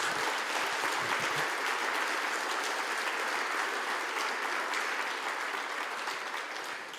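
A church congregation applauds during a sermon: dense, steady clapping that fills the room at an even level and fades slightly toward the end, with no voices on top.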